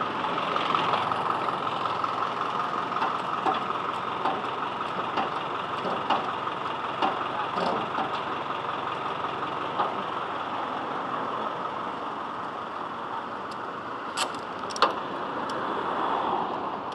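A truck's engine runs while it drives along, giving a steady, moderate rumble and road noise with a few faint clicks and rattles. No one speaks.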